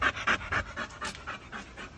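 A dog pants hard and rapidly after killing a raccoon, with a steady run of close, breathy huffs of even rhythm and no talking.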